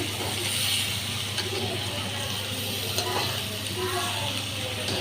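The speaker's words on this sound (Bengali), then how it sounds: "এতটুকু ভালো করে ভেজে নিয়েছি" Dried shrimp frying in a pan, a steady dense sizzle and hiss running unbroken at close range.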